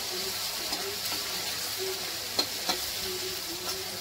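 Onion and tomato fry with a steady broadband sizzle in a pan for a Marathi gola bhaji, while a spoon scrapes and clicks against the pan a few times.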